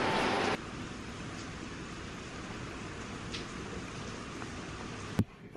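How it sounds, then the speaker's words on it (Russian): Steady dense broadband hiss of heavy rain pouring down, constant throughout with no talk, ending in a brief sharp knock. "идет дождь стеной"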